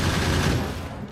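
Rapid automatic gunfire with basic yellow ammo against medium worms in Factorio, a loud, continuous rattling stream of shots that holds steady and tapers slightly toward the end, with no voices.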